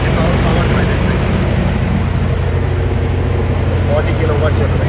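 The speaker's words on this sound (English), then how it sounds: "40 kilowatt generator" A 40 kilowatt generator on a 53-foot food trailer runs with a steady, loud, low engine drone, while someone talks over the constant hum.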